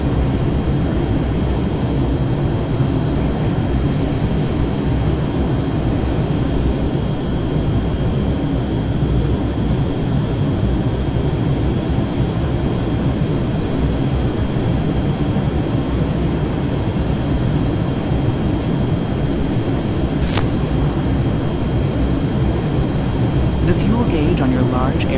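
A T-100 jet trainer aircraft flies with a loud, constant engine roar that holds steady and unbroken throughout.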